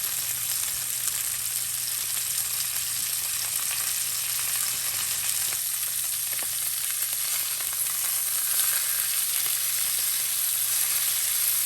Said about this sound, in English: just want to get a nice hard sear on each side to lock in those flavors